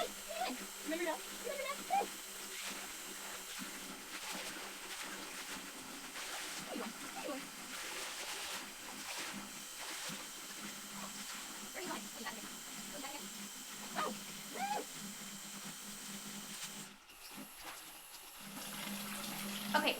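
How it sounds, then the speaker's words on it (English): Tap water runs and splashes into a baby bath at home, a soft hissing, steady flow with scattered splatters, fairly quiet, under someone talking intermittently, with a brief thump near the end. "So I'm gonna go ahead and turn the water off."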